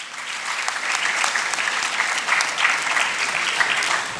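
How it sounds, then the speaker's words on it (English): A conference audience applauds blood donors at a national gathering of CA students, a steady, dense wash of many hands clapping that holds at an even level for about four seconds. "A huge round of applause for all our blood donors."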